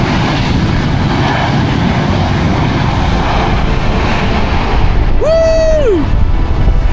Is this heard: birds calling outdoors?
no